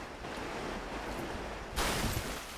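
Deep water sloshes and surges around a character wading through it in Dark Souls 3, a steady washing rush that swells louder and heavier partway through.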